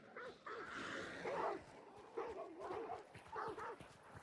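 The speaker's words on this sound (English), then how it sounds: "I aggroed the dogs." Dogs in a swamp area of a video game bark and yip in several quick bursts, fairly close and agitated, with short gaps between the volleys.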